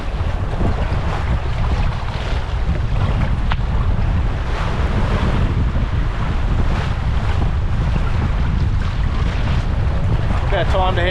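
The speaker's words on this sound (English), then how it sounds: "Maybe slightly overpowered, but not too bad. Yeah, she's sailing well." A sailboat heeling under steady wind on the Tasman Sea, with constant loud wind roar over the microphone and the rush of waves and water along the hull throughout, no talking.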